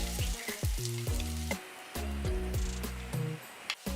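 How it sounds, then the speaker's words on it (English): Paneer cubes and masala stir-fried in a pan give a steady sizzle throughout, heard under prominent background music with no talking. "Stir fry the paneer and the masala."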